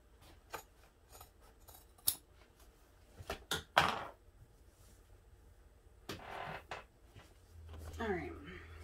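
Scissors trimming foam just inside a basting line while sewing a bag, giving several short crisp snips and rasping cuts spread across the clip, with a few louder cuts near the middle and quiet handling sounds between them.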